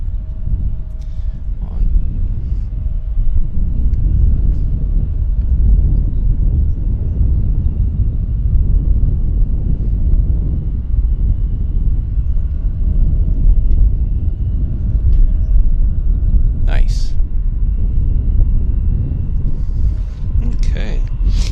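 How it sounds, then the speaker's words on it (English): A United Airlines plane taxiing at Vancouver Airport, heard as a loud, steady low engine rumble with wind noise, continuous and nearby. "here's the United taxiing into position."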